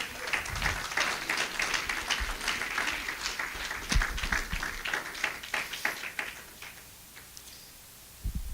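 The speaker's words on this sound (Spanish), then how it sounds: "Dale un fuerte aplauso al Señor" A church congregation claps for God during a Spanish-language service, a brisk burst of hand claps with distinct individual smacks that thins out and fades to quiet near the end, some claps very close.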